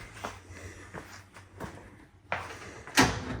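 A pull-out tray on 500-pound heavy-duty drawer slides in a Ford Transit camper van conversion is worked with several soft rolling and sliding knocks, then a sharper clunk near the end.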